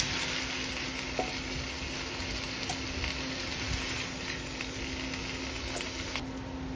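Carrots and pechay stir-fried in a pan for pancit bihon, a steady close sizzle with faint stirring scrapes and occasional light clicks, no talking.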